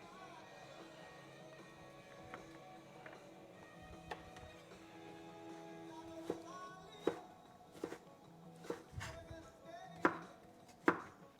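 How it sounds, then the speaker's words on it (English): A knife chops onions on a board during Swedish home cooking, sharp close taps that start sparse and quicken into an irregular run over a low, quiet room background. "Onions are the worst to cut."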